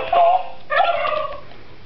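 A toy turkey gives two short gobbling calls close by, the second longer and warbling, with quiet room noise in between and no talk.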